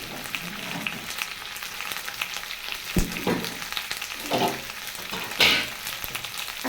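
Onion greens and garlic greens frying in a pan with a steady sizzle, plus occasional louder bursts and scrapes as they are stirred, heard up close.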